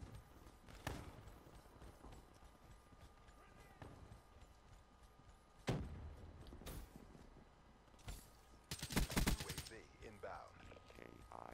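Gunfire in a Black Ops 3 multiplayer match, scattered single shots and a dense burst near the end, with game sounds and a voice speaking faintly in between.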